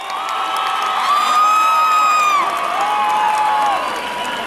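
A crowd at a rodeo bull-riding tournament in Mexico cheers and whoops loudly with applause mixed in, sustained for several seconds with rising shouted voices over the noise, heard from within the stands.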